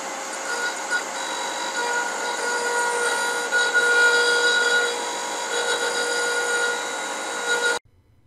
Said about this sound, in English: I'm going to go ahead and cut the first thread as is, and then we're going to come back and adjust it and cut it deeper